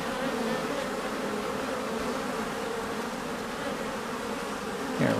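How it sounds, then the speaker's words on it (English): Honey bees buzz around hive frames during a swarm catch, a dense, steady drone of many insects close by, with a brief louder rustle near the end. "We got little bees."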